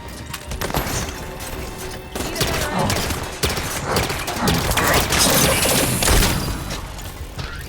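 Continuous gunfire in a Halo 5: Guardians multiplayer match, dense overlapping bursts and crashing impacts running loud throughout with no gaps, a busy layered firefight.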